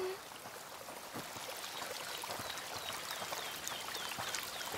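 Spring water running in the video game A Plague Tale: Requiem, a steady close trickle and splash that continues throughout, with faint outdoor ambience and no voices.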